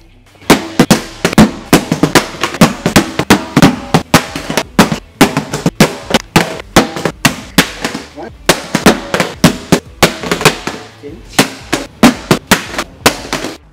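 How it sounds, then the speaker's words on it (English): A Panasonic Toughbook CF-31 rugged laptop hits the floor again and again after drops from 72 inches, giving loud, sharp, close clattering cracks in a rapid, fairly steady series with a brief lull midway and no talk. "Now we're going to drop it from 72 inches, and we're going to see how the casing holds up and if anything else pops off this laptop."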